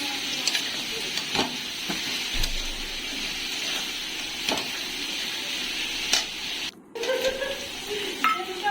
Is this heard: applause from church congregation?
no